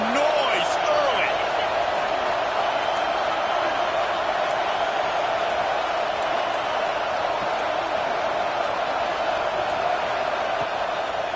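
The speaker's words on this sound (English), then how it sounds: "This crowd bringing the energy and noise early." Steady roar of a stadium crowd at an NCAA college football game, a dense continuous wash of voices and cheering filling the whole stretch with only slight swells.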